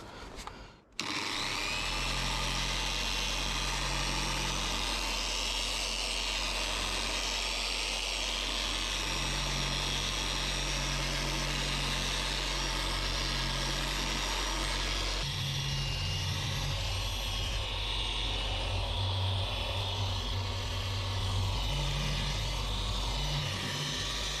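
A sander works 2000-grit paper over fresh paint on a VW T5 van, giving a continuous, even mechanical whir and drone that holds steady close by for the whole stretch after a brief start.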